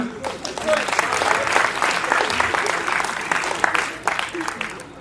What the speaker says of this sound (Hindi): अब तालियों की दाद मिलेगी तो मैं पढ़ता रहूंगा।